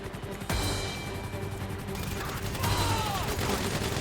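Bursts of gunfire in GTA 5 on an aircraft carrier: a sharp crack around the half-second mark and another near two and a half seconds over continuous loud in-game noise, mixed with faint voices.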